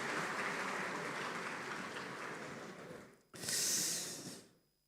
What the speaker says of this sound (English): A round of applause for them again.